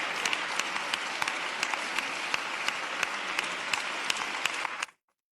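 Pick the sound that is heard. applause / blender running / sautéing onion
applause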